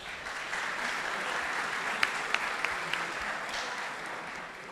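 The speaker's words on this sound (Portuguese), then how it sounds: "Uma salva de palmas." An audience at a law faculty conference panel claps steadily in dense, continuous applause, with a few sharper claps standing out near the middle.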